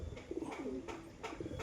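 Domestic pigeons, including a female, coo in a home loft: a few soft, rolling coos repeat across a brief span, quiet and close, with no talk.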